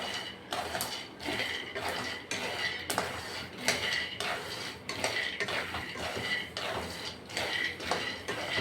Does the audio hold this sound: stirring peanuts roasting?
yes